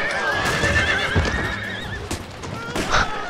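Horses neigh and gallop amid a Total War video game battle, with loud whinnies rising over continuous hoof clatter and clashing battle din, dense and close throughout.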